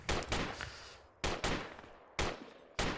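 Gunfire in the tactical shooter Project Reality comes as four loud bursts, each a sharp crack followed by a quick second shot, spaced about a second apart at close range.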